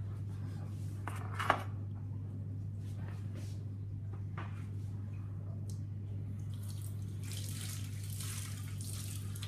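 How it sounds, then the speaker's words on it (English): Tap water runs over beetroot-dyed paper being rinsed, a soft splashing stream with a few knocks and drips beneath a steady low electrical hum, the flow growing brighter toward the end. "I'm just going to rinse that off."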